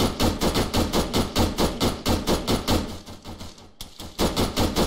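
Rapid automatic gunfire in a military shooter video game: bursts of evenly spaced shots crackle loudly, pause briefly near the end, then resume, with no talk over them.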